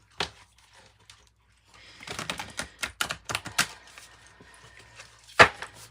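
Kim Cran's archetype oracle cards are shuffled and handled, giving a quick run of crisp, close card taps and riffles after a near-silent start, ending in one sharp louder slap.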